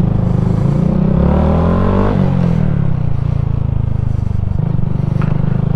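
A Honda Grom motorcycle rides along close and loud, its small engine rising in pitch through a gear, then dropping at a shift and pulling again with steady rumbling.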